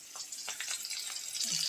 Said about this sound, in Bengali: তেল দিয়ে দিলাম কড়াইয়ের ভিতরে